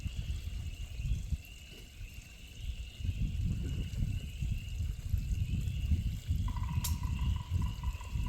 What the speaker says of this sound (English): Love the sounds, got the water flowing,